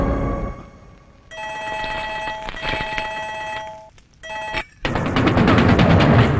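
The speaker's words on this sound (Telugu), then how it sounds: "ఇదిగో నీ కొడుక్కి ఫోన్ చేయి" A telephone rings in short repeated electronic bursts during a tense scene, with loud banging and noise crashing in near the end.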